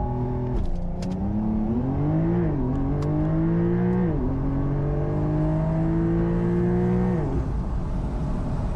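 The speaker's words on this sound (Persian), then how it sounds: "خب میریم که یه بار دیگه براتون لانچ کنیم." 2022 Porsche 911 Carrera doing a launch-control start, its engine held at high revs and then pulling hard, the pitch climbing and dropping back at each upshift, loud and close.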